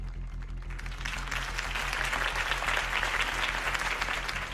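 A crowd at a political rally in a video game cheers and applauds Harvey Dent after his campaign speech, sustained dense clapping over a low rhythmic pulsing music bed.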